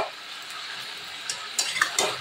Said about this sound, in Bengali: তো চলো এবার কিন্তু আমি মশলাটা দিয়ে একটু কষিয়ে নেব।